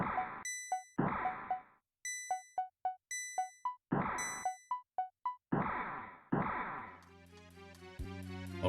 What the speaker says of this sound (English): Ring the bell together in unison